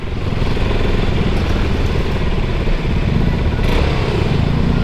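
KTM RC 200 motorcycle riding through heavy city traffic on C5 extension, its engine a steady, loud, close buzzing drone with busy low rumble and no talk over it.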